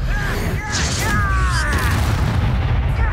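A Confringo blasting spell bursts in Hogwarts Legacy, a dense rumbling explosion that fills the whole moment with a steady low roar and crackle, with faint voice-like tones sweeping above it.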